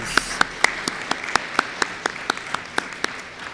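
Audience clapping at an eighth grade school promotion ceremony, a fairly sparse crowd in which a few sharp, prominent claps stand out over softer background applause in a loose, steady rhythm.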